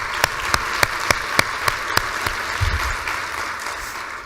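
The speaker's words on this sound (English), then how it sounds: "Another round of applause for Mayor Bloomberg." Applause for Mayor Bloomberg at a health summit, with a crowd clapping under a few sharp, evenly spaced claps that stand out near the start before the sound settles into a steady wash and then eases slightly.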